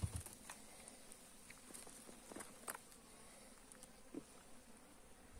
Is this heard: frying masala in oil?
no